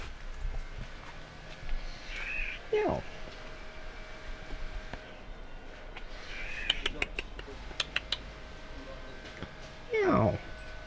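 A cat meows a few times at a Singapore kampong village, with two or three faint, drawn-out calls heard outdoors over ambient noise and occasional clicks.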